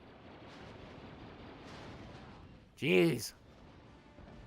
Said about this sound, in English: Grenades! Kept juggling me.